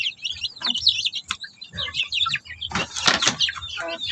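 Shamo Asil chicks cheep in quick, high, overlapping bursts nearby, with a scatter of wing flutters and scratching and a louder cluster of peeps toward the end.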